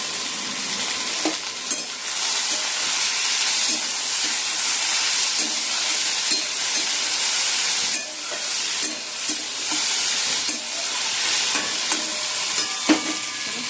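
Dal boiling in a pot on a home stove, with a continuous hiss of steam and bubbling sizzle close by, broken by scattered light clinks and taps throughout and no talk.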